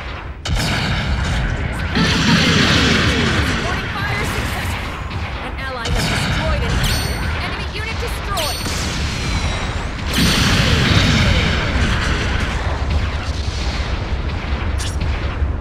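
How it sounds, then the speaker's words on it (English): Long-range support artillery barrage in Gundam Battle Operation 2, heavy booms and crackling shell impacts rolling on continuously, loud and dense, with surges of explosions near the start, middle and end, game voice callouts layered over the blasts. "Supporting fire incoming."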